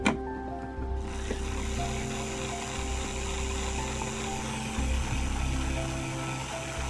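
A Triang Blue Pullman model train motor bogie spinning on a rolling road, a steady close whirring hum with a slight rhythmic wobble from an uneven wheel, alone and fairly quiet.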